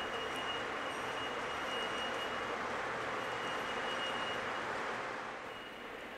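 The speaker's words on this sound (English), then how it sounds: "I have noticed that the train slows down just a little bit on the side of the room opposite the controller" O gauge model train locomotive running around a home game-room layout track, giving a steady whirring, rumbling drone with faint high tones, fairly close and even, easing slightly quieter near the end.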